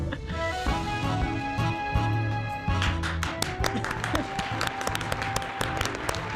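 Music plays and fades as applause breaks out, a crowd clapping steadily for several seconds.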